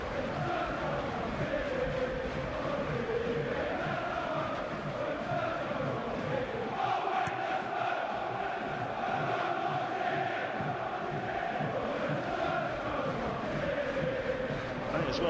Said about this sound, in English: Great noise from the Tottenham fans.